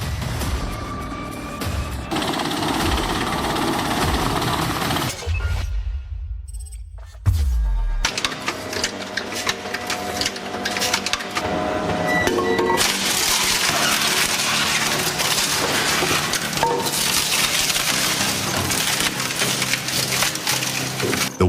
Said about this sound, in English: The Weima Vampire demonstrates extraordinary mechanical power, making it an incredibly effective, yet potentially dangerous machine.